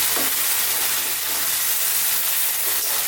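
Beef stir fry in oyster sauce sizzling steadily on high heat, a continuous close frying hiss with faint scraping as it is stirred.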